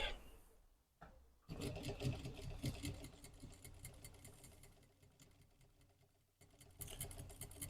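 Sewing machine stitching the back pocket onto tracksuit pants: a steady, fast mechanical whir of continuous stitching after a brief start-stop, close and fairly loud, running without pause until a short break and then resuming.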